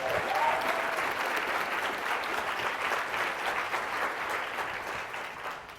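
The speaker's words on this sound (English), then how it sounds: "The first thing I wanted to do was basically to get a round of applause for Julian Lute" Sustained audience applause fills a room at a corporate culture talk, a dense steady patter of many hands clapping that stays loud throughout before easing slightly at the end.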